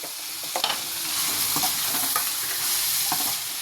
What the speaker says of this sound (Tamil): கறிப்பிலை போட்டு நல்லா வதக்கிக்கலாங்க